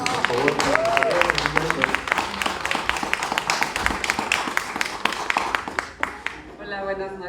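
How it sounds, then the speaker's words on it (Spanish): An audience at a Spanish-language book launch claps for the participants: steady, dense applause with a voice talking over it, thinning and fading out near the end. "es un aplauso para aquí los participantes"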